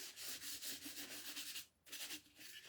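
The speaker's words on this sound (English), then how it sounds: "And then we're just going to kind of buff it." Rub 'n Buff is buffed onto a Michaels ornament with quick, soft rhythmic rubbing strokes close by, pausing briefly before the rubbing resumes.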